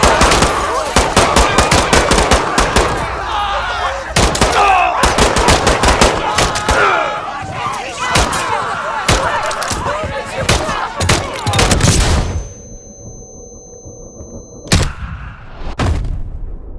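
Heavy automatic gunfire in the Call of Duty MW3 campaign, loud rapid machine-gun bursts and rattling volleys for most of the stretch, then a quieter lull broken by a couple of last sharp shots.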